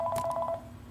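A mobile phone going off with a short burst of repeated electronic tones, loud and close, fading out after about half a second.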